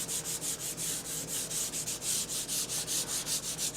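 Someone sands an old wooden school desk by hand, a close, steady back-and-forth rasping in quick regular strokes, about four or five per second, with no talking.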